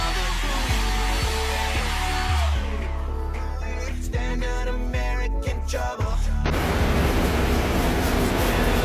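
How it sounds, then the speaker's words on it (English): A vacuum cleaner sucks up dust during a DIY board and batten wall project, giving a loud, steady roaring whoosh that shifts in tone midway before returning to a full, constant rush. "I'm about to vacuum up this premises, make sure that I got all the dust out there"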